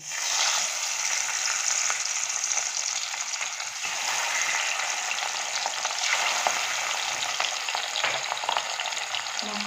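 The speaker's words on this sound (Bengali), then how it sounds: "তেলটা গরম হয়ে গেছে বন্ধুরা এবার আমি মাছগুলোকে এক এক করে ভেজে নেব" Loud, continuous sizzling of fish frying in hot oil, close by, with a steady crackling hiss and no talking.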